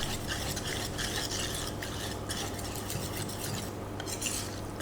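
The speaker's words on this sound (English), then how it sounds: "Stir it further." Hopper batter being stirred in a bowl, a continuous close scraping and sloshing rub with no pauses or talking.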